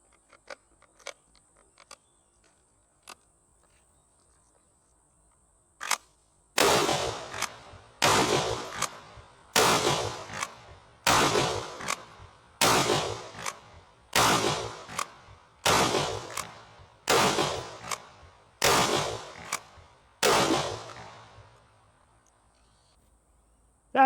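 A Chimera .223 rifle fires ten final rounds outdoors during an endurance test, evenly spaced loud cracks roughly every one and a half seconds, each trailing off with a reverberant tail, after a few faint clicks and quiet lead-in.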